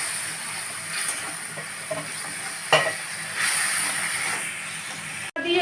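Brinjal with turmeric, Kashmiri chilli powder and salt being stirred and sautéed in a pan, a continuous near sizzle broken by scraping stir strokes and a sharp clack of the spoon near the end.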